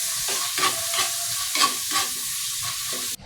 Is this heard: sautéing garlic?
yes